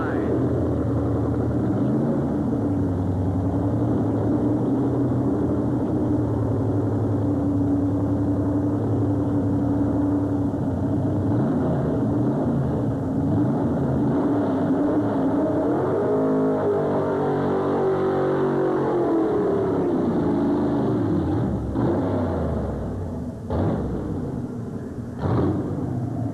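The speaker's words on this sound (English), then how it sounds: "The engine not coming up in RPM for Barry, so he'll be allowed to be dragged" A 1981 Chevrolet 427 cubic inch pulling truck idles and strains at a 1987 tractor pull, a steady loud engine drone that dips and bogs partway through.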